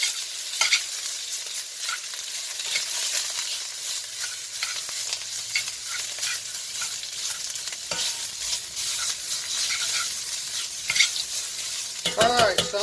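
Sausage fries in a Finex 10-inch cast iron skillet, a steady crackling sizzle close up, with occasional scraping and stirring knocks against the pan.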